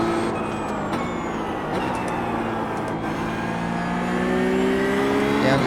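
A Porsche GT3 Cup race car engine in the iRacing sim at The Bend, a loud continuous rasping drone with rising revs, heard alone without talk.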